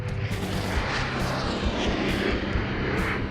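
A Navy test aircraft flying touch-and-go passes, a loud, continuous broad engine roar with a few harsh bursts, steady and close throughout with no voices.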